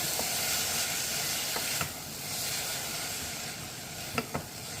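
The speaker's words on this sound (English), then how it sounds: "I'm just going to go in there with a heaped teaspoon of chopped garlic. Let's get that stirred up, stirred around." A heaped teaspoon of chopped garlic is stirred in a hot pan for sprout soup, making a steady loud sizzle with a few light scrapes of the spoon and no voices.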